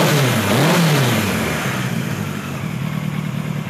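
A Kawasaki KZ900 motorcycle engine, freshly repaired after cam timing and bad plug fixes, blips up in a quick rev and falls back to a steady idle, loud and close in a garage, with no talk.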